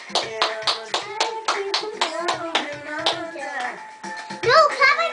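Hands clap in a quick, steady rhythm of a dozen or so close, sharp claps, with a voice joining near the end.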